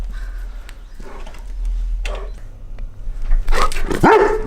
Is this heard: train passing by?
no